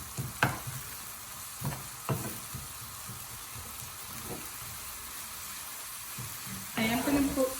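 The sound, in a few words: stirring methi saag with eggplant in a hot pan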